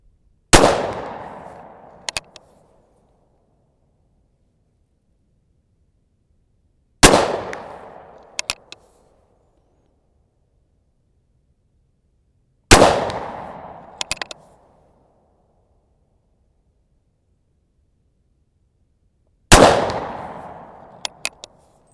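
Four loud, sharp gunshots from a .44 caliber 1851 Pietta revolver with a shoulder stock ring out alone at slow intervals, each followed by a short decaying echo and a faint click.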